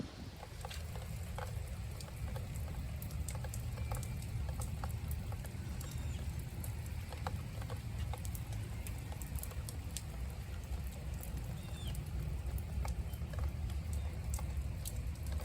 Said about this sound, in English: Sunny out, but raining.